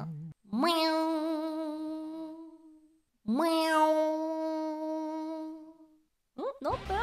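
Two long, drawn-out meows, each rising at the start and holding a steady tone before fading, then a short chirp at the end.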